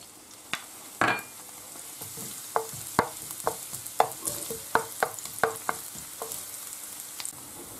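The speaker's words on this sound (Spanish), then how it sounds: "Una vez que está caliente, le echamos el ajo y lo rehogamos." Garlic frying in hot olive oil with a quiet background sizzle, punctuated by a dozen or so sharp scraping clacks of a utensil stirring the pan at irregular intervals.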